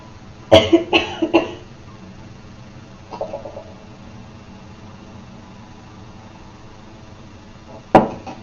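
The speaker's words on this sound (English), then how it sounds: "I was just coughing" A person coughing indoors, a quick cluster of three or four sharp coughs close to the microphone, a softer throat sound a little later, then one more loud cough after a quiet pause.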